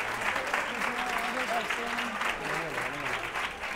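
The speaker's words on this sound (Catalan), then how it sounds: "Ara sí que podem aplaudir." A studio audience on a Catalan local TV word game show breaks into sustained applause, dense clapping from many hands filling the room, with a host's voice faintly audible beneath it.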